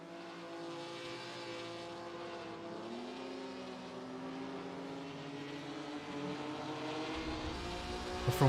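Race cars at Monza 1966 in a sim racing game, engines droning steadily with rising and falling pitch as cars pass and accelerate, a continuous near engine roar throughout.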